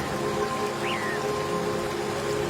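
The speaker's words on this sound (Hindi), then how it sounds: "पता नहीं ये बारिश कब रुकेगी।" Steady, dense heavy rain falling in a jungle, a continuous close hiss throughout with a brief bird-like chirp partway through.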